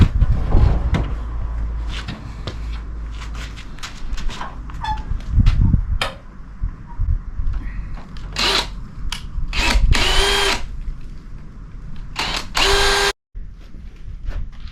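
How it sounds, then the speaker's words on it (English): A power drill bores holes during a DIY water-system and kitchen-sink job at a rural house in Spain, in repeated short bursts of whirring and ratcheting with pauses and clunks between, loud and close. "Lift it up so I can drill them holes."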